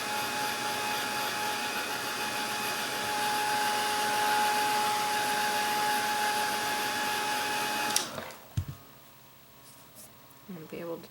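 A hair dryer blows steadily and loudly to dry acrylic paint, running for about eight seconds before cutting off abruptly, followed by a few faint handling knocks.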